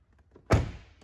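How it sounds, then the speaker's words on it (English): A GMC Sierra door shuts with a single loud, close thunk, followed by a short fading tail over a quiet cabin. "open the door."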